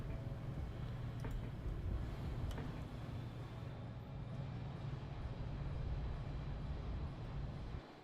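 Trains running in the video game Plan B Terraform, a steady low mechanical rumble with faint clicks, continuous and fairly quiet throughout, with no talking.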